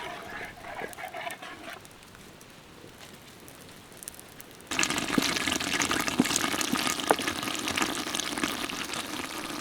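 Water poured into roasted fish curry masala cooking in oil, a sudden loud sizzling rush that starts midway after a quieter stretch and keeps crackling and bubbling to the end.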